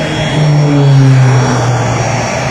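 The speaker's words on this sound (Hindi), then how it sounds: "इंजन ने बिल्कुल तेज़ कर दिए गए है" A private jet roars on takeoff, its loud engines holding a close, steady droning rumble with a deep tone that slides lower as it passes, no voices present.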